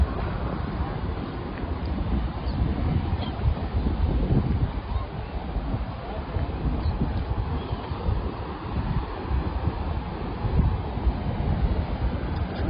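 Wind blows at the Mediterranean seaside in Cyprus in January, a constant rough rumble of gusts buffeting the microphone, fairly loud and steady throughout with no clear speech.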